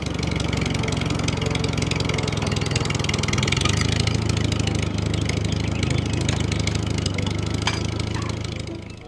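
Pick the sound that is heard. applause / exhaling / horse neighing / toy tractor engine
toy tractor engine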